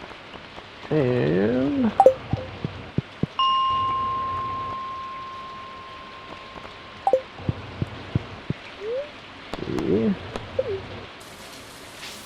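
Rain falls in the farming video game Stardew Valley, a steady soft patter behind game chimes, a sustained tone and brief bird-like calls, with a few short spoken words.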